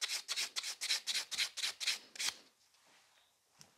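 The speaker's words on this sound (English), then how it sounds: "the next step is to take a buffer and just repeat the entire movement and go like nice and smooth" Gel nails are smoothed with a nail buffer on a tip holder in a series of about ten quick, rhythmic rubbing strokes, close and fairly loud, that then stop, leaving a quiet room with one faint tap.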